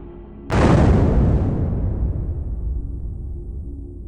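A building blast goes off with a sudden loud boom, then a long rumbling roar and debris wash that slowly fades over several seconds.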